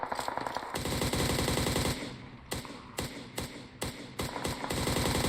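Rapid automatic gunfire in PUBG Mobile fills the clip, loud bursts of machine-gun fire broken by brief gaps, with distinct shots cracking in the later half.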